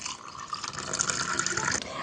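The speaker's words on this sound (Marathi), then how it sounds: "इथे नॉर्मल पाणी घालून घेऊया" Plain water pours steadily into a glass while homemade jeera soda is being made, a continuous close splashing fill for about two seconds.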